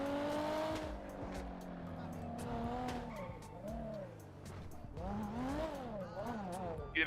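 A car engine in the video game GTA 5 revs loudly up and down with squealing tires, close and continuous, while people talk over it.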